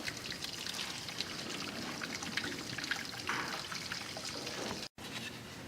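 About 6.5 gallons of hot water pour into a brewing mash tun for a ten-gallon honey wheat batch, a steady close splashing trickle that runs throughout with a brief cut near the end.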